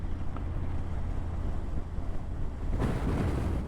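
Gusting side wind buffets a rider on a big Harley Electra Glide motorcycle, a loud, steady low roar of wind on the microphone over engine drone that surges heavier near the end.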